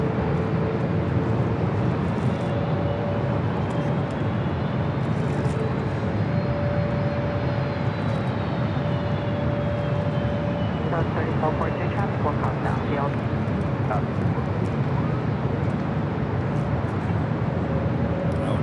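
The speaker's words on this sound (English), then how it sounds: "This is British Airways 281 coming in from London Heathrow on the 777-300ER" A British Airways Boeing 777-300ER inbound from London Heathrow on approach to LAX, a continuous broad jet roar holding steady throughout, with a voice talking over it.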